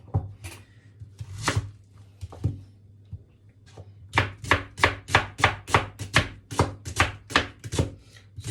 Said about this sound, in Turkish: Soğanlarımı ince ince doğruyorum.